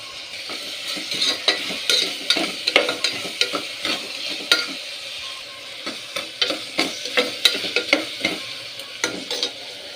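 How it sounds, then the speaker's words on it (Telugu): Turmeric and ginger-garlic paste fry in a pan for tomato rice, a continuous close sizzle under repeated scraping stirs and light utensil clatter, moderately loud with no speech. "సరిపడ ఉప్పు ఉప్పు వేసుకున్న తర్వాత కొంచెం కలుపుకుందాం కొంచెం పసుపు అల్లం వెల్లి పేస్టు"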